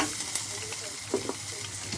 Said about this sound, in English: so my onions, right, they're frying off nicely.